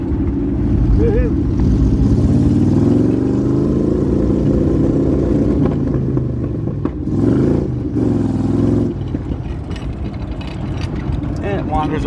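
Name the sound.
1978 Jeep CJ7 V8 4x4 engine while driving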